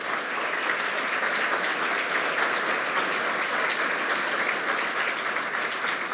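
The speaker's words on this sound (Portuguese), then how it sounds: "Por favor, uma salva de palmas" An audience applauds steadily and fairly loudly after being called to stand and honour a man's work with a community project in Itajaí, the clapping dense and sustained with no voices over it.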